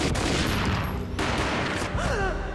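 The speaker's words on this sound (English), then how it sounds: "The gunshot boomed and she fell down in slow motion." Gunfire in the Max Payne video game, a dense burst of loud, overlapping shots under a noisy cinematic mix, with a brief drop and then tonal sweeping effects near the end.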